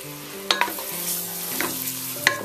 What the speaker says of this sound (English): let's stir it up rather nicely